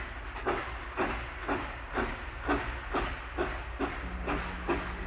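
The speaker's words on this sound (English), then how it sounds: "Black smoke out of the stack and white steam out of the safety valve." A steam locomotive gives a steady hiss of escaping steam with a rhythmic chuffing pulse beating under it, heard from a middling distance with no talking.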